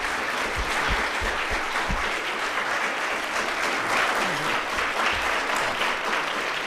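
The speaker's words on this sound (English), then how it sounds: "Please, let's give Henry a great big round of applause." Lecture audience gives a long round of applause after a talk on ice, water and climate, a loud, continuous, dense clapping from a large hall that holds steady for nearly seven seconds without talk.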